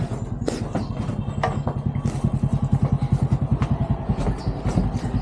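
A motorcycle engine chugs nearby with a steady, rapid pulsing throb that rises slightly in pace.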